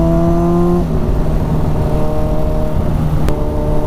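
A motorcycle engine running loud and close while riding on an Ohio road, a steady droning note that drops in pitch after a shift, over constant wind rush.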